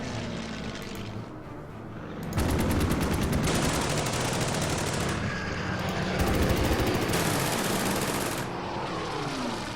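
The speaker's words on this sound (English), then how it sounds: "There is an AA gun there, though." Rapid anti-aircraft gunfire from the Order of Battle war game comes in two long, loud, dense bursts of fast repeated shots over a steady rumbling background, with no talking.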